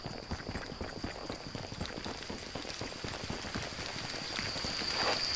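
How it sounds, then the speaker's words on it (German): Steady rain patters in the game Yonder: The Cloud Catcher Chronicles, dense soft droplets pattering continuously at moderate volume without voices. "Und hier regnet's."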